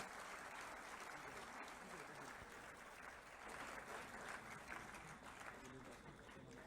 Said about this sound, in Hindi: स्त्रियों के सम्मान में कृपया जोरदार तालियां होनी